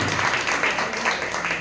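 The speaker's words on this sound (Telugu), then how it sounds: "చప్పట్లు కొట్టి" Audience applause fills the hall in a steady, dense wash of clapping lasting under two seconds, fairly loud and continuous with no voices standing out.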